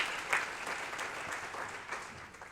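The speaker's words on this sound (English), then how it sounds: "Give her a round of applause." Moderate applause from a congregation at an Advent mission evening in a church, a steady spread of clapping hands heard at some distance and fading slightly toward the end.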